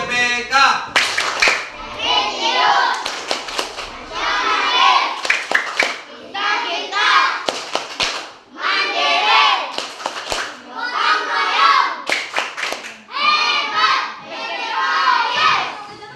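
A primary school class claps a rhythmic classroom clap routine in short patterned bursts, with children's voices chanting and shouting along between and over the claps.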